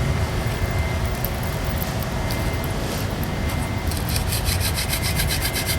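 A privet hand drill spindle spun hard against a wooden hearth board to burn in for friction fire, producing a dense, continuous grinding rub, close and steady throughout.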